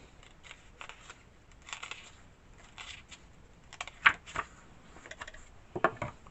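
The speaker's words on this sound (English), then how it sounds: "I'm just going to take my scissor, which is a very sharp, you want a very sharp pair, and I'm coming in" Very sharp scissors working through a thick stack of about twenty papers, giving sparse crunching snips and paper rustles, close and quiet, with a couple of sharper clicks.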